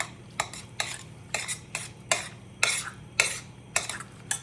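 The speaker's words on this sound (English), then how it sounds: "we're going to stir that pretty well" A spoon stirs salt into a mixture in a home kitchen, clinking sharply against the bowl about a dozen times in a quick, uneven rhythm, close and clear with no talk.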